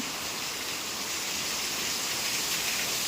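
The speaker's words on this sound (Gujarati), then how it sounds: "બે વાગે ફૂલ વરસાદ આવેલો છે એટલે ફૂલ એકદમ જોરદાર" Dense, steady roar of heavy rain pouring down, a continuous hiss without pauses or voices.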